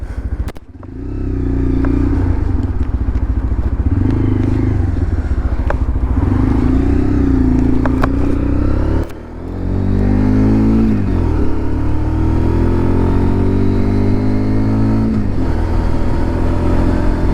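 Lexmoto LXR 125 SE motorcycle ridden after a rear brake rattle fix, its engine loud and close, revving up through gears with rising and falling pitch, a short dip at a gear change midway, then pulling hard again.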